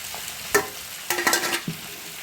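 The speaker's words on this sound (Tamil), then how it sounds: "இது எல்லாத்தையும் நல்லா ஒரு பரட்டு விட்டுருவோம்" Amaranth greens tossed with pepper and cumin in a pan, stirred in a few short scraping strokes over a faint sizzle, with no talking.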